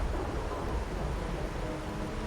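Steady rain and a low rolling rumble of thunder in the video game Wuthering Waves, a soft continuous wash of falling water with deep background thunder, no voices.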